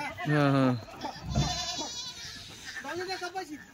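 Kathiawadi goats and kids bleat at close range, with one loud, wavering bleat at the start and softer calls after it. Someone talks in between the bleats.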